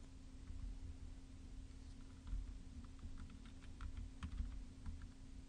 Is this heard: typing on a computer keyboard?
yes